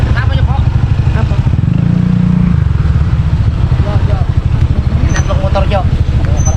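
A motorcycle engine runs steadily with a throbbing low drone during a ride toward a campsite in Tanay, Rizal, while people talk over it.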